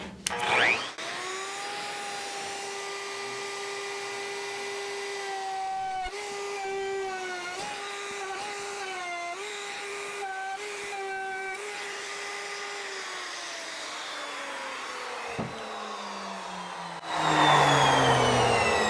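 A wood router cuts rounded edges along bathroom wood trim, a loud steady whine with shifting tonal bands as the bit bites and eases, running alone for most of the stretch before spinning down near the end.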